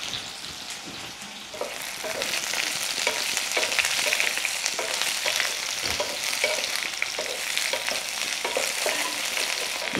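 Half-boiled bitter gourd frying in oil with dried red chillies and curry leaves, a steady close sizzle with repeated stirring scrapes, alone without talk.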